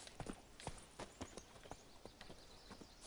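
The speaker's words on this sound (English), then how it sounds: "Aqui o cavalo." Quiet, distinct hoof clops from a horse in The Witcher 3 game, an uneven walking rhythm of separate strikes, fairly faint and alone with no talk.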